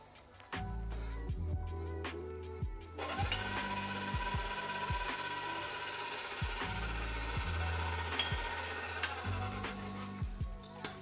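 An electric mixer beating egg yolks, sugar and rum for tiramisu, a steady whirring drone with repeated rhythmic knocks and scrapes of the beaters against the bowl, close and fairly loud.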